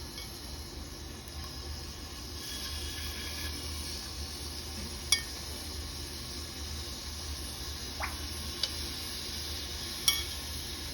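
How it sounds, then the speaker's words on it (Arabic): Meat sizzles quietly on a home grill, a soft steady hiss that runs throughout with a few sharp clinks of utensils and cookware. "هنبدا هنا بقى ننزل باللحمه بتاعتنا على الجريل."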